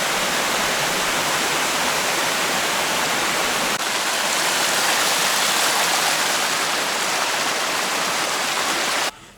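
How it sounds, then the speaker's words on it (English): A jungle waterfall on Koh Phangan, Thailand, roaring as a dense, steady wash of falling water heard up close and alone, cutting off abruptly at the very end. "it's a waterfall"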